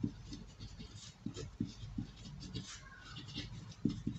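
A pen scratches across paper while math working is written out, a soft, close, irregular run of short strokes and taps over quiet room tone.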